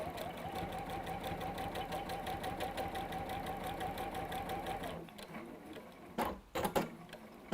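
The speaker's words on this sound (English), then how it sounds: "just sew them down like we've done for the edge" A sewing machine runs in a rapid, even mechanical chatter as it stitches fabric for about five seconds, then stops, followed by a few brief handling clicks and knocks nearby.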